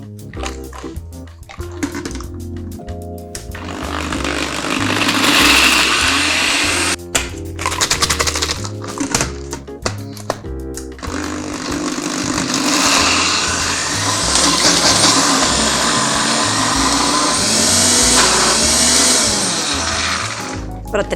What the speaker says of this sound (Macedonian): Ставете ги во блендер